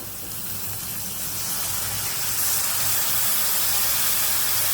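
Fish curry with curry leaves coming to a gentle boil in a pan, a steady hissing, bubbling wash of sound that swells slightly louder midway, with no talking.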